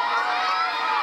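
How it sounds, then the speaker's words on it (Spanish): A lively crowd at a Trujillo talent show cheers and shouts for a performer, a dense steady roar of voices filling the whole moment without a break. "Queremos que le den un fuerte aplauso para Natural Boy."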